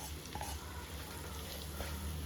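Boiled Chinese potatoes (koorka) fry in a pan with a toasted spice powder, a faint, low, continuous sizzle with soft stirring scrapes.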